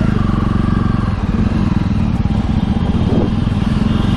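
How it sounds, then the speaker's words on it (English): Jawa 42 motorcycle engine running close by with a steady, loud, throbbing exhaust beat and some mechanical clatter. "Today I'm driving the Jawa."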